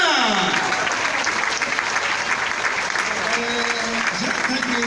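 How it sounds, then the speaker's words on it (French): Audience at a public talk applauding an honoured speaker, a thick wash of clapping throughout while a voice speaks over it at the start and again near the end. "S'il vous plaît, on va applaudir Kaïsan."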